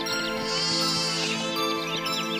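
Goat bleats sound out in a children's story of the mother goat and her seven little kids, a steady, close, layered bleating lasting a couple of seconds over a continuous tonal background.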